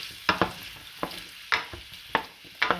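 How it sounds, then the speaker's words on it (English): Rutabaga pieces sauté in a pan, with a soft background sizzle broken by sharp scraping and stirring clicks every half second or so, close and clear, no talking. "We're just gonna saute these up until they're done"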